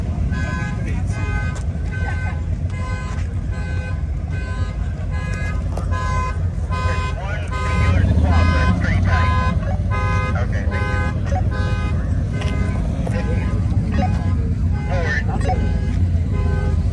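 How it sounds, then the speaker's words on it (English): A car alarm sounds at an outdoor Cars and Coffee show at Zuma, its repeating electronic tones looping steadily over engine rumble and crowd noise, with a louder vehicle passing partway through. "Got someone's alarm going off."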